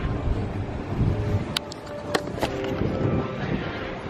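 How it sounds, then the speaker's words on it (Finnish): Wind buffets a microphone outdoors on a hot beach, a low rumbling gust noise with a few brief sharp clicks and knocks in between. "Tuo tuuli nyt helpottaa vähän"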